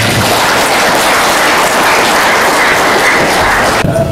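An audience at an Indonesian religious gathering in Cirebon applauds loudly and densely. The dense wash of many clapping hands sustains for about four seconds, then cuts off abruptly near the end.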